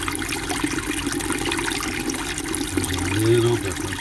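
Steady, continuous rushing water from a pressure washer fitted with a hydraulic heater, sounding close and even throughout, with a low mechanical hum rising near the end.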